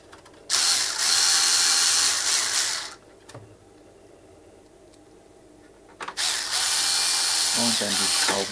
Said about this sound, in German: Und dann die Schrauben wieder eingeschraubt.